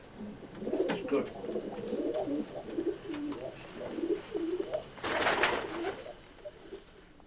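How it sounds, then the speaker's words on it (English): A racing pigeon cooing up close in a loft, repeated soft rolling coos, with a brief burst of flapping or rustling partway through. "A very good pigeon, Germain."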